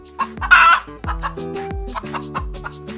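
A Coucou de Rennes chicken, the old breed from Rennes, clucks up close and loud, giving a string of short throaty clucks and one sharper squawk, with other birds faintly behind.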